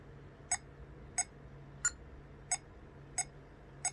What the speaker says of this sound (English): if let's say I were to choose a metronome of a setting of 4/4 on 90